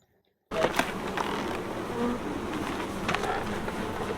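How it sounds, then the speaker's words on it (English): Honeybees hum steadily in an open hive, a dense close buzz starting abruptly after a short silence and continuing evenly with faint scattered clicks. "So see, really, these bees are really calm right now."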